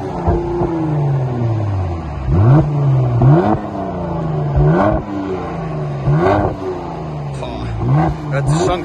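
A Mercedes-AMG C43 engine revs repeatedly in sharp, rising bursts with crackling between them, loud and close, with a voice speaking occasionally in the background.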